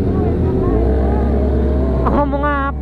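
Loud motorcycle exhaust roaring steadily on a road, with a deep continuous engine drone and voices talking over it throughout.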